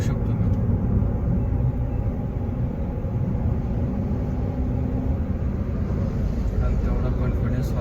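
Car driving on a road while trying to overtake another vehicle, a steady broadband rumble of engine and road noise throughout, with someone talking over it.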